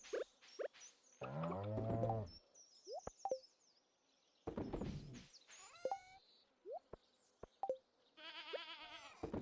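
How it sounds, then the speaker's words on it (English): A cow in a cozy farming video game gives several short, clear moos amid chirpy game sound effects and plopping interface noises, spaced out with quiet gaps between them. "There's just the one cow. He's over here."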